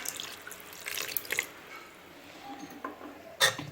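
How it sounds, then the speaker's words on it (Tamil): Hot water poured from a glass into venpongal, a rice and lentil dish, giving soft splashing and trickling bursts with a few faint clinks, quiet and close with no talk. "நான் வந்துட்டு ஒரு 3/4 கிளாஸ் போல் வந்து ஊற்றுறேன் சுடு தண்ணி."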